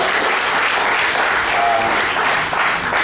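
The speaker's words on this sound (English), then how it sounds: "a round of applause." Audience at an annual function applauding, a dense, steady wash of clapping filling the room, loud and continuous without a break.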